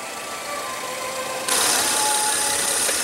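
Ford Explorer 3.5-liter twin-turbo EcoBoost V6 running under the hood, a steady close idle hum whose level jumps partway through, with a broad hiss and high whine joining the engine drone.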